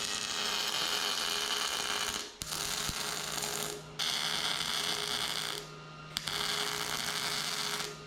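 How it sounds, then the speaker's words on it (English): Plug welding on a 1968 IH Travelall body, three bursts of steady buzzing MIG arc crackle, each about one to two seconds long, separated by short pauses, close and fairly loud. "Time for some plug welds."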